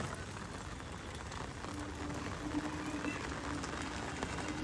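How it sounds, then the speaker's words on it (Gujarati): Very heavy rain pours down near a temple in Surat, a dense, steady hiss of drops on surfaces that is faint and continuous, with a soft tonal hum partway through and no clear speech. "અંધરાધાર વરસાદ પડે છે"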